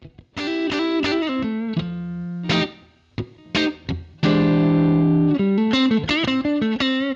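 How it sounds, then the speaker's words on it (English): Electric guitar through a BOSS GX-1, with a compressor placed before the drive for added sustain, plays a melodic phrase of held notes and quick runs; driven, sustained tone, loud and continuous with brief gaps. "you can place a compressor before drive to add more sustain"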